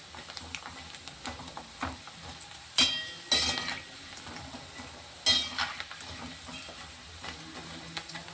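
Vadagam dropped into hot oil sizzle softly alongside scattered stirring clinks and a few sharper scraping bursts from the pan, fairly quiet throughout.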